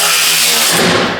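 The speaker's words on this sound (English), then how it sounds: "I'm gonna take my spin jack and pick this thing up, make sure it's sitting nice and tight" A spin jack cranks up a transfer case skid plate under a 2005-or-newer Toyota Tacoma: a continuous, loud, close grinding and whirring that carries through the whole short stretch.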